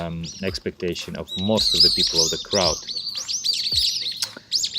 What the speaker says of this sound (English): Okay, I'm sorry about the birds here, so loud.